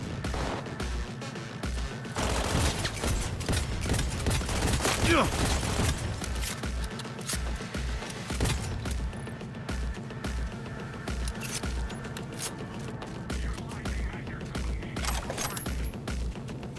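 Sniper gunfire in Cyberpunk 2077 crackles in repeated shots and bursts over a dense, continuous game soundscape, loud and close, with some voice in the mix.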